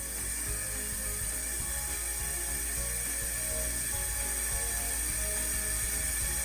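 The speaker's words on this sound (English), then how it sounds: "we're just gonna carefully fill my water balloon" Water runs from a faucet into a balloon being filled, a loud, steady, close rush with a faint ratcheting texture, no voices.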